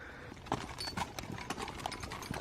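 Horses' hooves clip-clop in an uneven rhythm as the animals are led across firm ground, several close, distinct strikes over a low background murmur.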